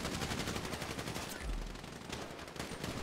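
Rapid automatic gunfire in Grand Theft Auto V rattles continuously in dense bursts, loud and close, with a deep thud partway through.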